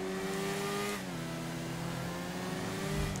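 Nagasaki Stryder motorcycle engine from GTA Online, a steady, continuous mid-pitched drone heard while driving, holding level throughout with a slight shift in pitch partway through.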